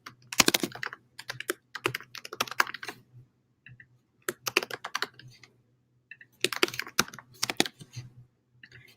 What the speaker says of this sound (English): And as I am typing